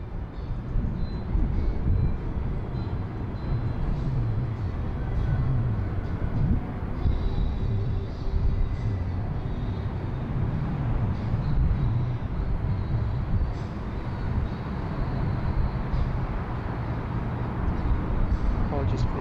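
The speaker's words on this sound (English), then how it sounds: "The A330 900 Neo of Starlux, coming in flight 741 from Taipei." A Starlux Airbus A330-900neo arrives at a Bangkok airport on a flight from Taipei. Its jet engines give a steady, broad rumble that continues throughout at a moderate distance.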